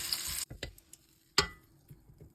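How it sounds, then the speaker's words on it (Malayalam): Onions frying in ghee and oil in a hot pan for chicken dum biryani, a brief sizzle burst followed by sharp stirring clacks, then a quieter faint crackle. "ചൂടായ പാനിൽ കുറച്ച് നെയ്യും കുറച്ച് ഓയിലും ഒഴിച്ചിട്ട് ഈ ഉള്ളി ഇങ്ങനെ ഒന്ന് വറുത്തെടുക്കാൻ വേണ്ടി"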